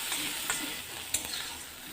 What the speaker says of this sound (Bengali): চিংড়ি ভাজতে বেশি সময় লাগে না, 1 মিনিট বড় জোর